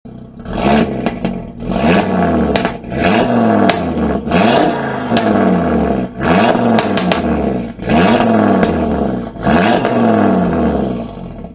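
Audi RS3 after a Stage 2 upgrade revs lightly while stationary, several loud throttle blips rising and falling in quick succession, each a raspy roar that drops back between pulls.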